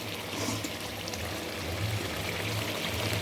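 Water pours steadily into a pot of thin fish curry seasoned with green chilli and cumin, a continuous close splashing stream with no voices.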